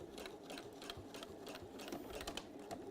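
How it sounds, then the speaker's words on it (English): A sewing machine stitching slowly through two layers of fabric, with a steady run of evenly spaced needle strokes repeating about twice a second, close and unbroken, over a constant low motor hum. "my machine sews through it"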